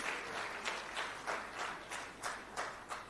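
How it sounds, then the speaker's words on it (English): An audience at a political party's national general council claps steadily, the applause rising in regular rhythmic swells of hand clapping at moderate volume for a few seconds. "We have to applaud them."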